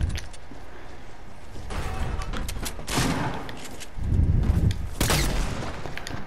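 Video game gunfire in rapid bursts and heavy booming shots, loud and continuous, with several louder blasts toward the end and no talk over it.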